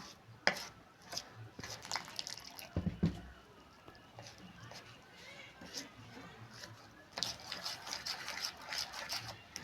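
Batter for pumpkin flower fritters being whisked by hand in a bowl, with quiet, irregular wet slapping and stirring strokes, soft and close, in bursts with brief pauses.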